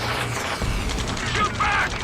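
Combat gunfire in the video game Ace Combat 7: Skies Unknown, a dense rattle of bursts with booms and mechanical clatter under voices shouting over it.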